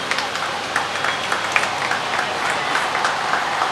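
An assembly audience at a party event applauds a vice-president being introduced, a steady wash of dense clapping with scattered sharper claps, held at an even level throughout.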